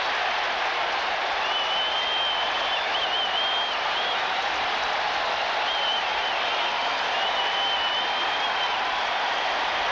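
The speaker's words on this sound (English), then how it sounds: "There are some Packer fans here, Pat" Football crowd at a Green Bay Packers versus Chicago Bears game cheering and applauding after a 90-yard Packers touchdown, a steady dense roar throughout with faint whistles rising above it.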